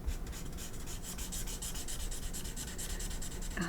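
A fairly dry marker is scrubbed across paper in quick repeated strokes, a close, even scratchy rasp that ends with a brief louder scrape.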